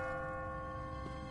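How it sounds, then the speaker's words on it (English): A church bell rings in The Walking Dead video game, a sustained metallic tone with lingering resonance heard alone, moderately distant and steady. "What kind of church bell goes off at 20 past the hour?"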